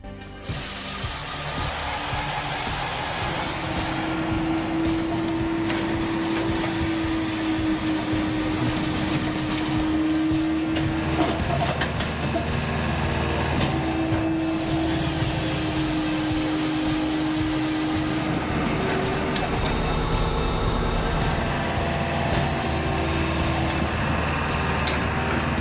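Homemade log-splitting wood cutting machine running, a loud continuous mechanical drone with a steady hum that dips and returns, close by with no voices over it.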